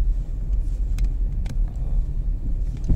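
Steady low rumble of a car driving along a road through a village near New Amsterdam, Berbice, Guyana, heard from inside, continuous engine and road noise with a few faint clicks and no talking.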